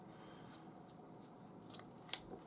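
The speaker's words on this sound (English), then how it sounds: "cut the remaining 2 off with a pair of scissors" A few quiet snips of scissors cutting paracord strands, close and crisp, with one sharper cut near the end against a faint background.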